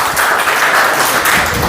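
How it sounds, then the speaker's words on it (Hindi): Classroom audience applause for a student at an ethics and morality lecture, a dense, steady burst of many hands clapping together, loud and close, with no talking. "एक बार इनके लिए ताली बजा दो जरा।"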